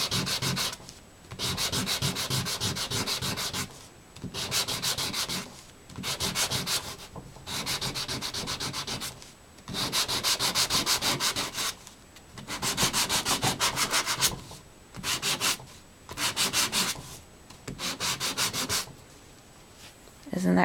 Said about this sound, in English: I'll take my sanding block and I'll just rub on it.